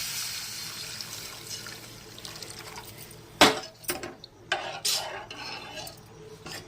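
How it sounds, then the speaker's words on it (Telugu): Frying hiss fades as water is poured into a hot pan of fried tomato pieces, followed by a loud burst and splashing with a few metallic clinks. "పోసేస్తున్నాను నీళ్ళు"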